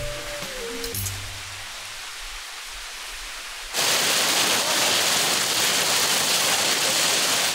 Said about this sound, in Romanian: Mamă, dar ce plouă!